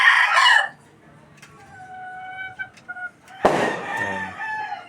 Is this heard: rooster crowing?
yes